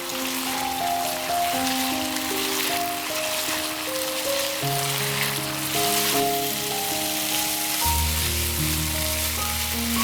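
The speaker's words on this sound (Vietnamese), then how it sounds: "Các bạn đảo đều cho đậu bám sốt tới khi phần nước sốt cạn hoàn toàn là được" Tofu and pork simmer in a reducing sauce in a pan, a steady bubbling sizzle that runs continuously under soft background music.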